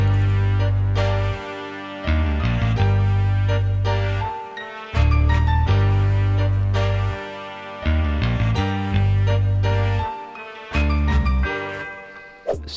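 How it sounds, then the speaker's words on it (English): An FL Studio hip-hop beat plays a looping melody over deep, booming Rickenbacker-style bass notes. Sharp percussive hits mark a steady, repeating pattern, loud and close, with no speech. "So next I added a sub bass or a bass guitar to the melody"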